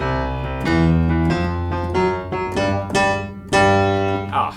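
A piano plays a short blues turnaround with a walking bass line, rolling chords descending to a resolving close, loud and up close.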